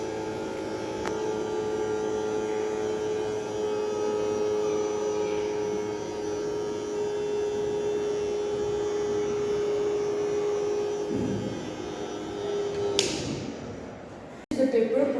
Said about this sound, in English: You can see that this mini homemade vacuum cleaner actually works.